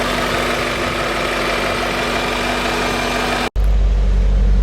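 A 2000 BMW M5 with a 190,000-mile S62 V8 and Eisenmann exhaust idles loudly and steadily with a deep, even drone, then the sound cuts abruptly and resumes with a heavier low rumble.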